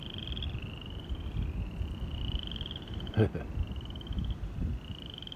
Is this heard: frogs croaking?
yes